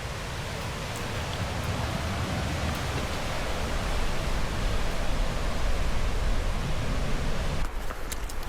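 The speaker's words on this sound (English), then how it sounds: "get a bird's eye view of that waterfall" A waterfall along a forest trail heard from a viewpoint above, a dense continuous roar of rushing water that holds steady throughout without a break and without talk.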